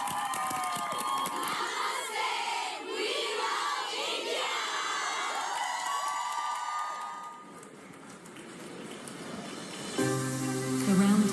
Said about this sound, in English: Huge round of applause for Croatia!